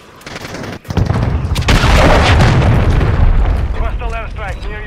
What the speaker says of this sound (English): Hostiles launch the cruise missile.